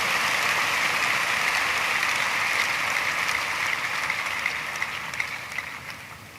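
A church congregation cheers and applauds loudly at a worship service. The dense clapping and shouting stays steady, then begins to fade toward the end.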